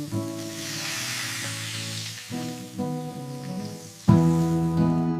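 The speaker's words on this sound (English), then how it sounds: "Searing the fish slightly on both sides." Marinated fish sears in a hot pan, a steady hissing sizzle that swells as pieces are added and turned, under a constant bed of background music.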